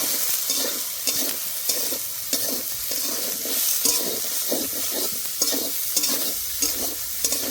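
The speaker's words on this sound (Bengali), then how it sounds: "এবার ভালো করে ভেজে নেব।" Soybean chunks with salt and turmeric frying in a pan, stirred in a repeated rhythm: steady sizzle punctuated by regular scraping strokes and occasional light clinks, close up with no talking.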